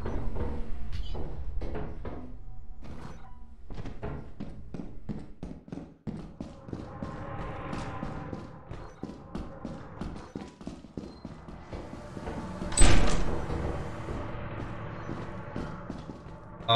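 Doors in the video game Lethal Company bang and clatter amid a run of sharp, irregular knocks and footsteps, building to one louder slam near the end.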